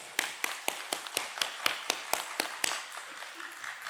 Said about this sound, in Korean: 우리 하나님께 영광의 박수를 올려드립니다.